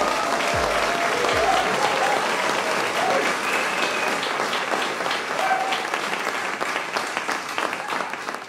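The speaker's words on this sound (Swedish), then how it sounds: "En applåd för våra avgångselever." Sustained applause from an audience honouring graduating students at a school ceremony, steady and full throughout with no voices standing out.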